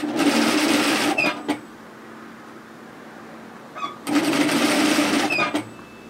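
An overlocker stitches knit fabric in two fast whirring bursts of about a second each, separated by a quiet pause with faint clicks, close and clear.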